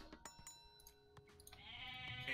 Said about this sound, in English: Look at these guys standing there looking at the goat that just died.